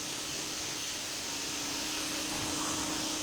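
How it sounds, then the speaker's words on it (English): A new pressure washer rinses a surface with a steady, loud hiss and spray, constant and unbroken throughout with no speech. "So I'm just getting in here a good thorough rinse. Finally got a new pressure washer,"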